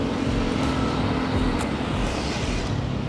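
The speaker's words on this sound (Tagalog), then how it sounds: "naririnig ko nga yung mga tunog ng mga sasakyan" Vehicles pass close by on a road, a loud, continuous rumble and rush of traffic with no voices.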